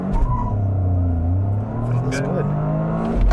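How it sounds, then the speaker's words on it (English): Toyota GR Corolla hot hatch with AWD set to a 30-70 torque split and traction control off, engine droning steadily up close through the whole stretch, rising slightly near the end, while a person speaks briefly over it. "We're gonna rev it up and do somewhat of an aggressive launch"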